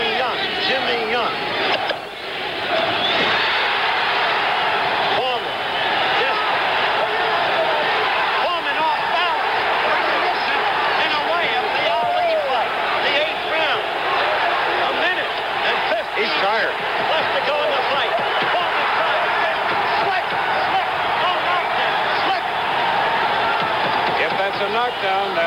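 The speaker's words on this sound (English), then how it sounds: "Listen to the crowd now. They picked up the chant again. Jimmy Young, Jimmy Young, Jimmy Young." A boxing arena crowd during a 1977 heavyweight bout keeps up a steady rhythmic chant for Jimmy Young, a dense, loud roar of many voices that fills the whole stretch with a commentator talking over it.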